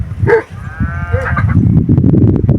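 Nearby sheep and cattle call out, a bleat and a drawn-out lowing cry, followed by shuffling and trampling noise of the animals moving.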